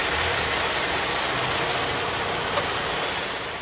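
A 3.5 V6 car engine runs under the open hood, a steady, even hum with a faint rapid tick and no talking over it.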